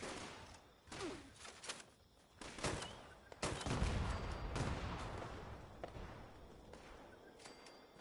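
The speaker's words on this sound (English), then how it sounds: "Now we're being shot in the back." Gunfire in Fallout 76 comes as repeated sharp shots and bursts, some distant and some close, with a heavier stretch of rapid fire in the middle.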